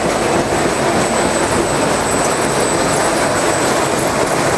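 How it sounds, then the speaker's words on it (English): A folder gluer machine feeds Digipak sheets down a belt at high speed, producing a loud, unbroken mechanical roar with a thin high whine on top and no voices. "So here we are at the folder gluer, and you can see the sheets are loaded"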